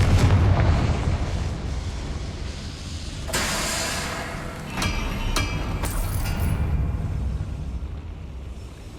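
A Confringo fire spell explosion in Hogwarts Legacy erupts over a rumbling low background, then several sharp cracking bursts close together and a lingering fiery rumble.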